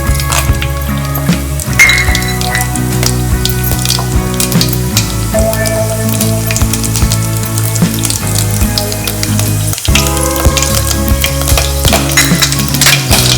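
Whole spices, bay leaves, star anise, cinnamon sticks and black cardamom sizzle and crackle steadily in hot oil, loud and close, with a few clinks of a stirring spoon against the pan.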